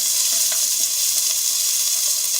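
Diced onion frying in hot oil in a pot for clam chowder, a steady bright sizzle with faint crackles, close and continuous with no voices.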